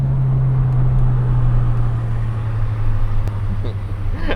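Ford Fiesta ST150 engine droning steadily at high revs on a push lap around the Nürburgring, a loud sustained in-car roar with a low tonal hum throughout.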